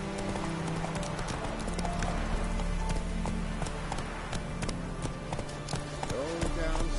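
Hooves of a galloping horse in The Witcher 3 pound in a fast, steady rhythm up close, with a voice speaking over the hoofbeats and a short whinny-like tone near the end.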